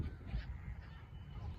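Geese honking at Rankala lake in Kolhapur, a steady low outdoor wash of calls from a flock at moderate distance, with no clear talk over it.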